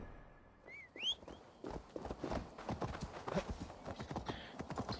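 Horse hooves clip-clop at a steady walking pace in the video game Assassin's Creed Valhalla, close and fairly loud, with a brief whistle early on and a voice talking over the steps.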